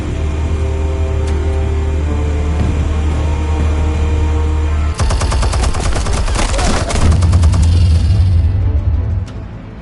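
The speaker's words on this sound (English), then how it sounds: "Explosives armed. Fire when ready." Explosives detonate in Batman: The Telltale Series, a sudden loud burst of crackling blasts and debris that cuts in over a steady low hum and rumbles for several seconds before fading.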